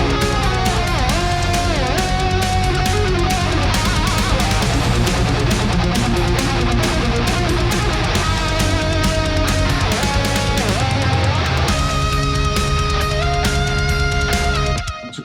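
Metal lead guitar played through a Trivium amp plugin, sustained and bending lines riding loud and steady over a dense full-band mix for about fifteen seconds.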